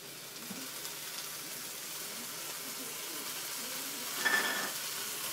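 Onions and garlic sautéing in a pan, a soft, steady sizzle held at low level throughout with a brief louder hiss near the end.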